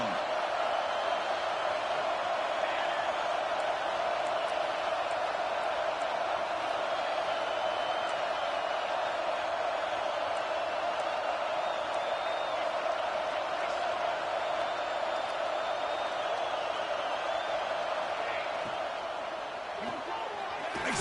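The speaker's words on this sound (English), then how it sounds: "And the crowd coming to life here, trying to help this defense down in the red zone." A football stadium crowd keeps up a steady, broad roar for about twenty seconds, with voices faintly mixed in beneath it.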